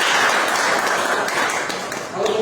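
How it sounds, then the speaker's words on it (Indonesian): Audience at a live seminar breaking into steady applause, dense clapping filling the moment at fairly close range. "Berikan tepukan."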